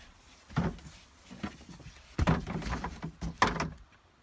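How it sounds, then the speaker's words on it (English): Rubber door seal being pulled off the door frame of a 2004 Dodge Neon during interior removal, a few separate rustling, scraping tugs at close range, with quiet pauses between them. "we'll get this door seal straight out of the way here."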